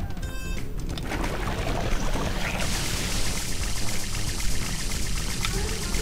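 Water splashes and gushes continuously as a character plunges into water in the video game A Hat in Time, a loud churning rush lasting several seconds without speech.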